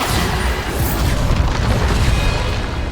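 A loud, close blasting-spell explosion from the video game Hogwarts Legacy fills the moment with a heavy booming rumble that stays dense and sustained, without a clear separate onset.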